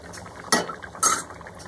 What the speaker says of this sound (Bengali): পোস্ত আর দুধটাকে আমি শুক্তোর সঙ্গে খুব ভালোভাবে মিশিয়ে দিলাম।